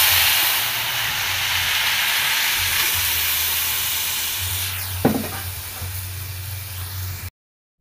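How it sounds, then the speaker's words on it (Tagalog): Second portion of coconut milk poured into a pot of simmering jackfruit for ginataang langka, a steady hiss and bubbling under a low hum, with a brief clink midway before the sound cuts off. "Ilagay na po natin ang pangalawang gata."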